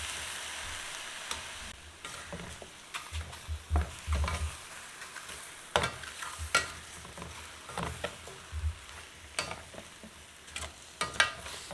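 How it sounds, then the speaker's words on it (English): Chicken wings sizzle with butter and brown sugar in a pan over high heat, with a steady fry hiss broken by irregular scraping stir strokes and soft clacks across the whole stretch. "I've raised the heat to high and I'll give it a good stir."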